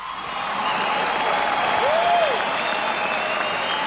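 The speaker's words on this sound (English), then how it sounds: "a round of applause for Mr. Tokbe Ashiwaju and Karishma" An award-ceremony audience claps in a broad, sustained wash of applause that swells and holds steady, moderately loud, with a brief tonal sweep partway through and no clear speech.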